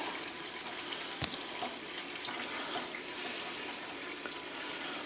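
Clearomizer parts being rinsed under a running tap, a steady hiss of flowing water filling the scene at low level with one brief sharp knock near the start.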